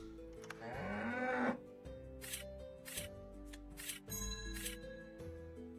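Cows moo in the Castles of Burgundy digital board game, a short run of low lowing sounds over shuffling card-like clicks and soft background music.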